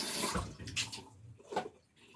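Cold tap water running over hands during washing at a sink, a splashing stream in uneven bursts that swell and fade, fairly close, with no talking.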